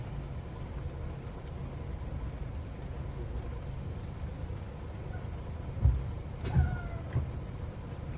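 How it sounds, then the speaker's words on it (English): Squealing brakes from a vehicle behind a car out on the road during a storm chase in Wisconsin: brief high-pitched squeals and whines rise over a steady low road rumble near the end. "Somebody behind me's brakes sound funny."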